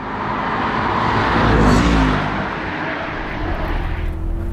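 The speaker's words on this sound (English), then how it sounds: "When you put the powertrain in kill, you get the burbly burble tune." A Mercedes SL63 engine and exhaust give a loud, broad roar that swells toward the middle and then eases into a steadier burbling rumble.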